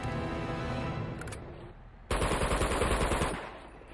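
Gunfire during a firefight in Uncharted 2 with a shotgun enemy, a loud burst of rapid shots that starts abruptly after a quieter stretch and then fades away.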